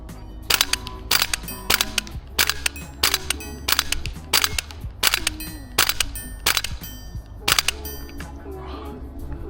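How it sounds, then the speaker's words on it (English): Sharp, loud snapping shots from an upgraded XM7 airsoft gun fire in irregular single and double bursts across the stretch, close up, with a low background hum between shots. "This thing is shooting like a dream."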